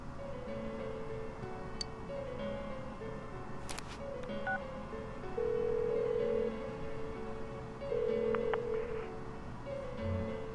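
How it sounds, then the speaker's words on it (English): Phone dialing tones from Persona 4 Golden, a steady sequence of electronic beeps and tones over a soft game background hum, with no voices. "Give her another call."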